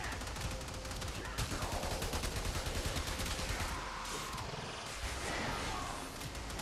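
Enemy gunfire in the mobile shooter Warframe Mobile during a Teralyst fight, a dense continuous rattle of rapid shots and blasts that fills the scene at steady volume with no pauses.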